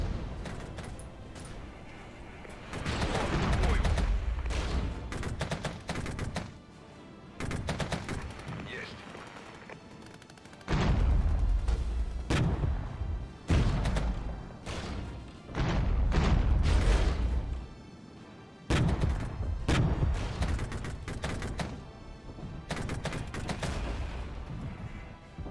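Weapons on a BRM-1K vehicle open fire in the video game Regiments, loud thudding bursts and rapid gunfire coming in several heavy waves separated by short lulls.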